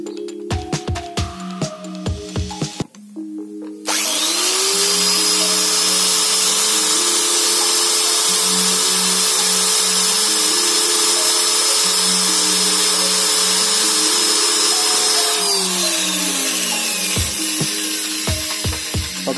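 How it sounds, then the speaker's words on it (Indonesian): An electric drill whirs steadily at high pitch for a long stretch, boring into a hard light switch, its tone shifting as it bites, with clicks and knocks before and after. "Ini harus menggunakan bor."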